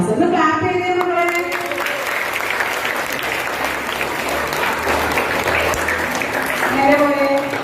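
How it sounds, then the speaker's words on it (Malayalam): Schoolchildren at a yoga day event burst into sustained applause, a dense wash of many hands clapping together, with a voice talking briefly before and after. "ഒന്ന് ക്ലാപ്പ് ചെയ്തേ മക്കളെ"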